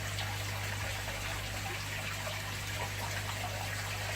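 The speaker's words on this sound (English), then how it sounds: "so it acts more like an air stone than anything else" Water bubbles and trickles steadily from a cracked stone set in an aquarium tank as an improvised air stone, a continuous soft gurgle over a low electrical hum.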